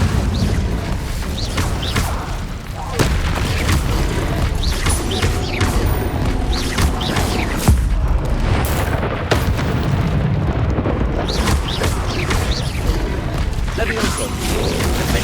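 Fire spell blasts in the Hogwarts Legacy video game, loud bursts and whooshing booms amid continuous combat effects and clanking mechanisms, with a voice speaking over the action.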